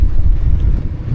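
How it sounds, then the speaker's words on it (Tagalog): Strong amihan northeast monsoon wind gusts over a riverside boatyard, a loud, low buffeting rumble battering the microphone for a brief, unbroken stretch. "Lumakas na naman si Haring Amihan."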